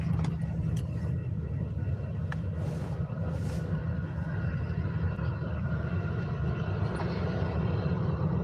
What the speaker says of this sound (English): So the Aer Lingus A330 is landing in just 1 minute.